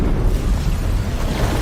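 A grenade explodes in Genshin Impact, a loud sustained boom with a heavy low-end roar that fills the short moment without fading.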